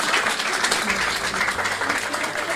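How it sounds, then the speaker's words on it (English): A conference audience applauding steadily and loudly, clapping blending into a continuous roar with a few voices mixed in. "Can we give them a round of applause"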